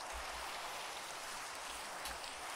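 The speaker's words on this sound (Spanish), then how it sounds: "La lluvia está bonita, la verdad." Steady rainfall in Minecraft, a dense, even hiss of falling rain with soft low thumps, constant and unbroken with no voices.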